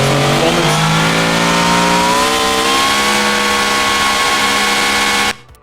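A 7.2-liter car engine in the Automation game revs loud and steady, its harmonic tones climbing in pitch through the run, then cutting off abruptly near the end without winding down.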